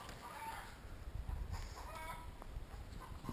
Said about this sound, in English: My rooster.